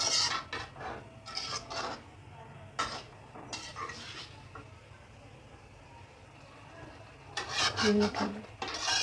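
Metal spoon or ladle scraping the sides of an iron kadai while chicken karahi cooks over high flame, bursts of harsh rasping and clinking strokes separated by pauses, close and moderately loud.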